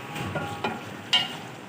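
Potatoes and masala cooking in a pot for dum aloo biryani, heard as a soft steady sizzle with a few brief stirring scrapes and clinks, alone with no talking.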